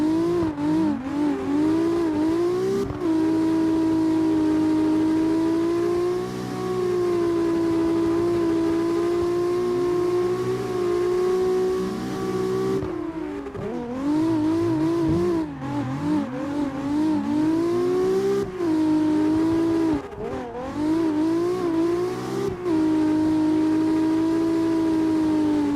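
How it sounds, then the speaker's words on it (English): A car engine held high against the rev limiter, giving a loud, sustained droning whine that wavers in pitch, with brief cuts and dips before it climbs back up. "I can't stand that rev limiter."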